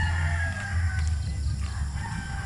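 Chickens cluck and a rooster crows close by over a busy, noisy farmyard background with pigs and a garden.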